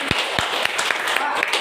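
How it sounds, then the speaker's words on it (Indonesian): A seminar audience breaks into brief applause, a few sharp scattered claps over a murmur of voices, lasting under two seconds. "Beri tepuk tangan."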